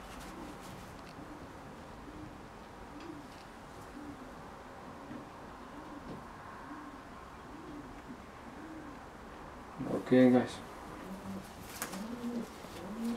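Jan Aarden racing pigeon hen cooing close by in soft, rhythmic repeated phrases about once a second, fairly quiet; someone speaks briefly near the end.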